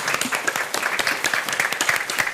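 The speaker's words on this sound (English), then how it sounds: "can we please all stand up for a sec and give him a hand of applause?" An audience applauds as an education minister arrives, a dense burst of many hands clapping steadily and fairly loud from start to end, with no talk over it.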